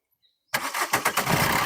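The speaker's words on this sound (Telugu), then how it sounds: "సింగిల్ సెల్ఫ్ లో బండి స్టార్ట్ అవుతుంది," A 2016 Maruti Brezza ZDI+ diesel engine cranking briefly after silence, then catching on the first try and settling into a rough, even idle close by.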